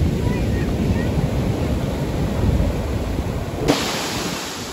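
Storm waves on the Sochi shore roar and wash in continuously as loud, wind-buffeted surf close to the microphone, with one sharp knock near the end.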